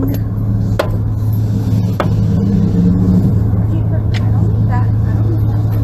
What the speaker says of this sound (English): I'm gonna leave the car running.